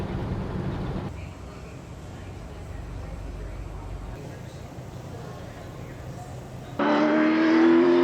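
A Ford Falcon muscle car driving along, its engine and road rumble steady throughout, with a brighter, louder stretch of engine and wind noise near the end.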